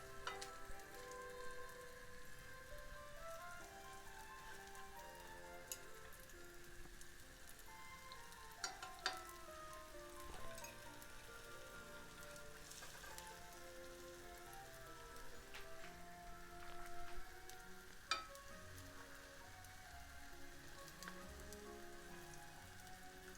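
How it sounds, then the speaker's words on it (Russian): Steady crackling sizzle of thick Russian pancake batter frying in a hot pan, continuous and close, with a few sharper pops standing out now and then. "Жарим оладьи до золотистого цвета с обеих сторон."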